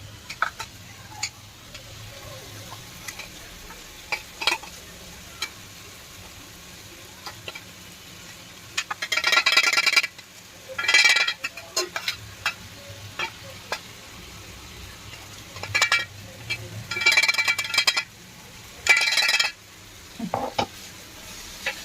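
Ground peanut chutney is stirred in a hot pan, with a soft low sizzle under scattered clicks and several short, louder bursts of spatula scraping against the pan.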